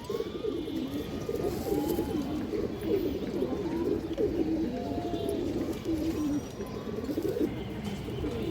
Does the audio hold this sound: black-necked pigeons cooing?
yes